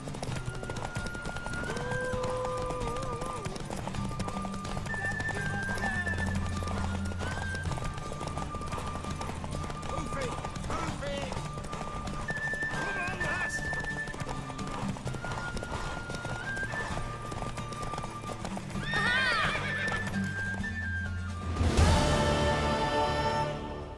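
Hooves clop steadily across a busy The Witcher 3: Wild Hunt game soundscape with music, then a horse whinnies loudly near the end.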